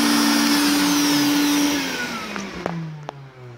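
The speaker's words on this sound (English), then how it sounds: "go ahead and turn off the vacuum" A shop vacuum roars loudly beside a CNC router cutting foam board, then is switched off, its pitch sliding downward as the motor winds down, with a few small clicks and knocks as it fades.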